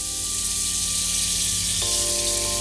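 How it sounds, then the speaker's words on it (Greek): Coriander seeds sizzle steadily in a hot cooking pot, a loud, even frying hiss running the whole way without pause. "βάζω σποράκια κόλιανδρου, έχει ζεσταθεί η κατσαρόλα"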